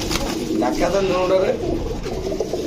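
Black fantail pigeons give a steady, close run of low, throaty cooing, with a person talking over part of it.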